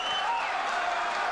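A boxing crowd cheers and applauds through the first round of a world title fight, a dense, steady roar of many voices filling the arena.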